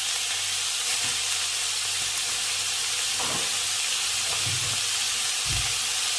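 Pork stir-fries with curry paste and eggplant in a hot pan, making a loud, continuous sizzle and hiss broken by a few low knocks and scrapes from stirring.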